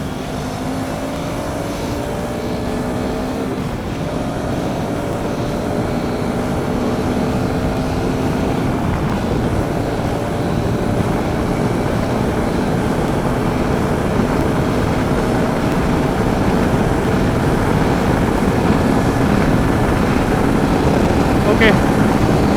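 KTM 390 Adventure motorcycle engine running above 8000 RPM at around 150 km/h, a loud continuous high-revving drone with steady wind rush from close up, holding constant for the whole stretch.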